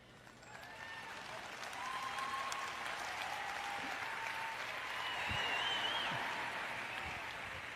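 Sustained applause from a church congregation during a French-language sermon, steady and fairly loud, swelling slightly midway and again near the end, with no voices over it.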